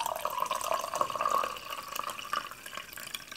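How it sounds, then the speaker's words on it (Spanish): Running tap water filling a container in a kitchen sink, a steady close hiss and splash that swells and eases over a few seconds, with no talking. "Y ahora vamos a llenarlo con agua"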